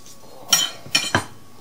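A knife slices through an avocado to make thick egg rings, producing three short clinks of metal on a hard surface, close and crisp against a quiet background.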